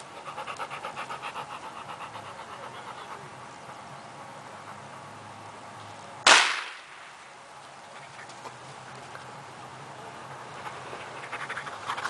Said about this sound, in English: I'm going to pull on it and hopefully it'll fire.